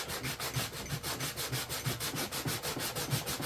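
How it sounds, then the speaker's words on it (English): Rhythmic back-and-forth scrubbing of sandpaper by hand on a plastic RC model-plane propeller, close and steady, about three strokes per second with no talking. "And I'm just sanding"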